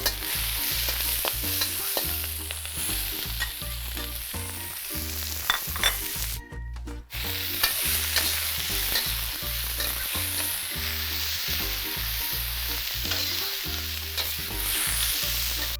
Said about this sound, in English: Then add the prepared ginger, red onion, green onion and dried tofu.